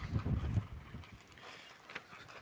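Wind driving snow outside a greenhouse in winter, a rough broadband rush with a stronger gust at the start, then a steadier, softer blowing hiss close to the microphone, with no talking.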